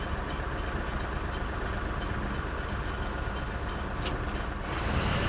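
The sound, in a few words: heavy-duty truck engine in a video game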